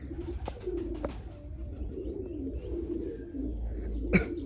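Pigeons in a loft coo softly and repeatedly, with a few sharp thumps and flutters like wingbeats, the loudest one near the end, over a quiet background.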